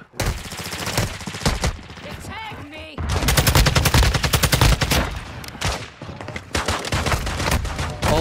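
Shotgun blasts in a video game, loud repeated shots in rapid bursts through much of the stretch, with a short lull in between.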